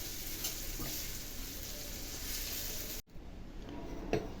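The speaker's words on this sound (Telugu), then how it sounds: "ఉల్లిపాయలన్నీ వేగిపోయినాయి" Onions frying in a pan for a Telugu hotel-style onion chutney, giving a steady moderate sizzle with soft stirring scrapes, briefly cut off midway and then resuming with a small clatter.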